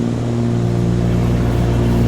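Cessna 414AW twin piston engines in Microsoft Flight Simulator 2020, a loud, steady, low droning hum heard from inside the cockpit, unchanging throughout with no talk.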